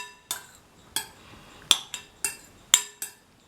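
A spoon taps and clinks rhythmically against a bowl as carrot tomato yogurt is stirred, about seven crisp strikes in quick succession, close and fairly quiet, with no talking.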